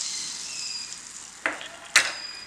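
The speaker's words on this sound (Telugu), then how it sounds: "ఇప్పుడు నేను ఇందులో పైనుంచి పోపు వేసేస్తున్నాను." Hot garlic tempering hits boiling dal with a steady sizzle, then two sharp crackling bursts as it is poured in, close and loud with no voices.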